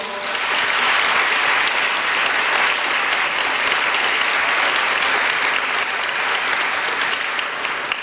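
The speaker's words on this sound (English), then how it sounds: "would you please just give her another round of applause?" Audience applause at a community center tribute event, dense sustained clapping from a crowd throughout, loud and even with no speech on top.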